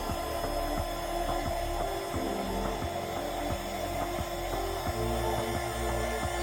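A heat gun blows on a solder heat-shrink wire connector, a loud, steady whirring drone running unbroken throughout with a faint repeating mechanical ticking inside it.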